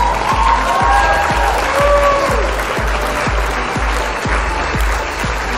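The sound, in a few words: applause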